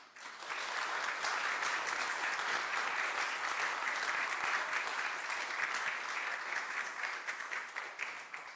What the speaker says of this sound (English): I'm going to have to ask you guys not to clap as much as you want to.